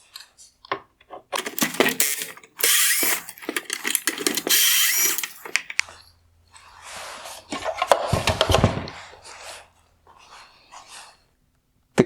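A power driver spins out T20 screws from the chrome bezel of a 2015-2018 Porsche Cayenne xenon headlight, with several short whirring bursts interspersed with clicks and plastic handling noises in a quiet workspace.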